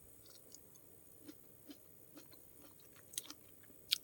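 A crunchy fresh peach is chewed close up, with soft repeated bites and crisp crunches that grow sharper near the end, quiet and without talk.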